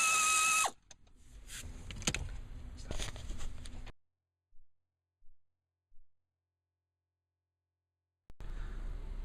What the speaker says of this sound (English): Socket on an 8-inch extension for the upper one through a slot in the dashboard, and the lower one however you like.